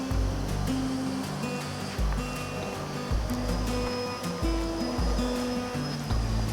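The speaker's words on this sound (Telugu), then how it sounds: "ఇందులోనే ఒక లవంగా, ఒక పట్టా వేసి కట్ చేసి పెట్టుకున్న ఆనియన్స్ అన్నీ ఇందులో వేసేయండి. వేసి ఇలా కలుపుతూ ఉండండి." Chopped onions with a clove and a piece of cinnamon are stirred in a pan for a potato kurma curry, heard as regular low scraping strokes about once a second over a steady background hiss, with no talking.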